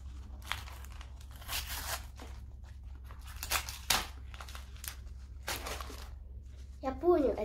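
Crinkly plastic rustling and tearing as My Little Pony sticker card packets are opened up close, coming in short irregular bursts over a low steady hum, with a voice speaking in places.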